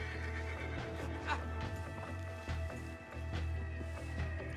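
A horse in Red Dead Redemption 2 whinnies and snorts, with hooves clip-clopping nearby over a low steady game ambience.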